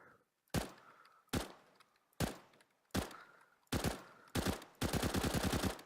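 Machine gun fire in Counter-Strike: seven loud bursts, the first five spaced about a second apart as separate shots, then faster rapid fire closing into a sustained volley at the end.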